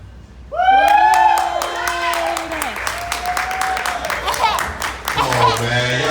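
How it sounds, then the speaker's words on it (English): An audience claps and cheers at a live event, a dense patter of applause with whoops rising over it, while a voice talks loudly near the microphone above the crowd. "Y'all give a better round of applause than that."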